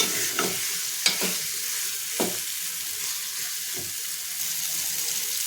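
Cleaned, washed boyta fish gets stirred into sizzling masala in a pot. A few sharp utensil scrapes and clanks cut through the steady frying hiss, close by, with no talking.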